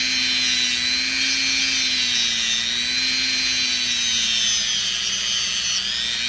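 A Dremel rotary tool sanding an amethyst rock, a steady loud high whine with a constant grinding hiss that wavers slightly in pitch as pressure shifts, continuous and close.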